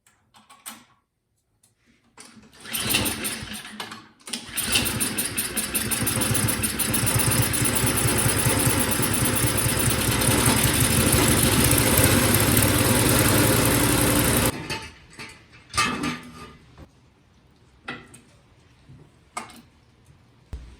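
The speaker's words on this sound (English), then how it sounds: "I'm gonna fill it up with gas, run it, and then let it sit and watch it" An Ariens snowblower's small gasoline engine, one with a fuel leak during a tune-up, starts after a short pull and then runs at a steady, loud idle for about ten seconds before cutting off, followed by scattered handling clatter.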